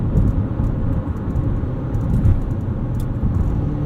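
A 2017 Mitsubishi Outlander Sport 2.4 SEL with a CVT coasts down under paddle-shift engine braking, a steady low cabin rumble of engine and road noise with no talking.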